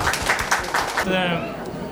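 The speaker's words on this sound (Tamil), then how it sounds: "அவங்களுக்கு நம்ம ஒரு மனப்பூர்வமான கைத்தட்டலை தெரிவித்துக்குவோம்" An audience at a 1992 old student reunion claps in a short burst of applause, and a voice starts speaking as the clapping fades.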